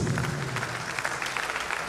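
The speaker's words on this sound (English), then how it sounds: "A round of applause for the inaugural lecturer, please." An audience at a university inaugural lecture claps for the lecturer, a steady moderate patter of hands heard from a distance.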